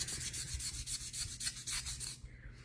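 A ring piece for a DIY Christmas countdown ornament is sanded by hand on its inside in quick, rhythmic back-and-forth strokes, close and fairly quiet, with no talking.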